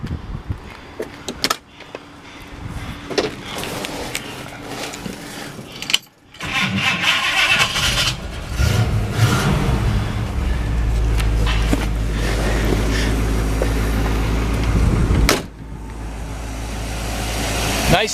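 A 1958 AMC Rambler Ambassador Country Club sedan with dual exhaust cranks and starts, then settles into a smooth, quiet, steady idle. Earlier there are clunks and a brief pause before the start, with a voice heard at moments.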